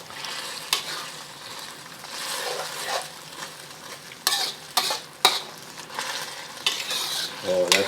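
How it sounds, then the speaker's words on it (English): Spaghetti sauce with ground beef, bubbling after a cornstarch slurry is added, stirred around a pan with steady scraping and soft sizzle, and a few sharper utensil knocks against the pan near the middle. "once the sauce is bubbling, then add your cornstarch slurry and stir that around"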